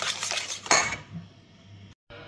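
A utensil clinks and scrapes against a bowl while stirring carrot cake batter with flour and baking powder, a few quick metallic strokes up close, then a quieter stretch and a brief dropout.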